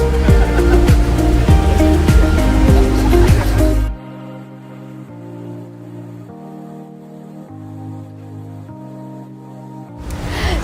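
Tegenungan Waterfall and its river in Bali send up a loud, steady roar of rushing water for about four seconds, which then cuts away to soft, sustained tonal music.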